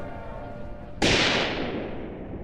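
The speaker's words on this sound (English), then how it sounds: "A shot rings out, and the world listens." A single sharp gunshot rings out in a World War I-era setting, cracking suddenly midway and then decaying into a long, fading rumbling echo over a low background bed.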